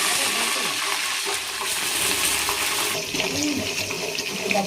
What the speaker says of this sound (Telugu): సన్నగా తరుక్కున్న ఎర్రగడ్డ, కరివేపాకు బాగా వేయాలి